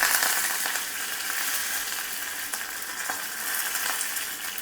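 Mustard seeds and curry leaves hit hot oil in a pan, giving a loud, continuous crackling sizzle with scattered pops, steady throughout and close by.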